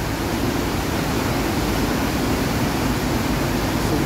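Steady roaring of a rain-swollen stream after a sudden heavy shower, a thick close-up rush of turbulent water that stays loud and even from start to finish, with no talking.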